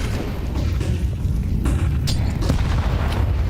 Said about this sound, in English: Nice grenade to open things up, Donk.